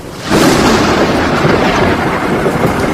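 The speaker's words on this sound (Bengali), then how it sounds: "হঠাৎ খুব সামনে কোথাও বাজ পড়ল" A thunder clap sound effect for a cartoon ghost story strikes suddenly and loud, then rolls on as a sustained broadband rumble with rain-like hiss for the rest of the clip, no voices.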